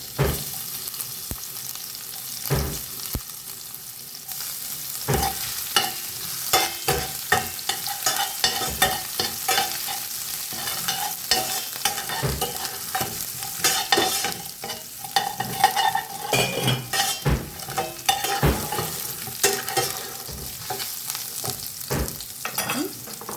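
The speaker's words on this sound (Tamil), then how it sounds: "இஞ்சி பூண்டு போடுறோம்." Ginger and garlic frying in a pan, a steady crackling sizzle with frequent sharp scrapes and taps of a spoon stirring, close and fairly loud, no talking.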